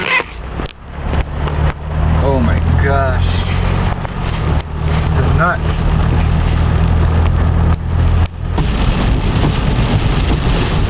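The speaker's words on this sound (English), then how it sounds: "it's pouring like crazy right now" Heavy rain pours onto a moving car in the Rio Grande Valley, heard from inside as a steady, loud broadband roar over a low engine hum, with a person talking throughout.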